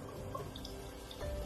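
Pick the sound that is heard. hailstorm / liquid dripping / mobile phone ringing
liquid dripping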